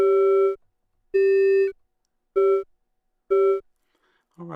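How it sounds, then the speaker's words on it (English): Four evenly spaced bell-like FM tones from two operators on a DIY Eurorack synthesizer, each a clear sustained ringing note about half a second long separated by silence, followed by a brief bit of speech at the end. "Now you are starting to hear bell-like tones, and again, just from those 2 operators."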